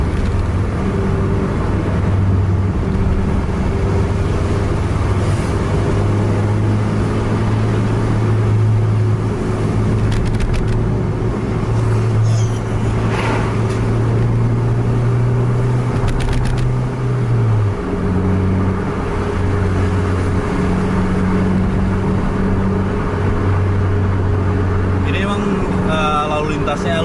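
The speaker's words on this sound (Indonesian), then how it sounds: "Ini ada 3 bis yang jalan cukup dekat." Scania-engined buses race closely together on a Medan road, deep diesel engines droning loud and steady, with one engine note shifting pitch midway and a voice talking over the rumble.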